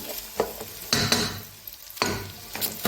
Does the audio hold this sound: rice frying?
yes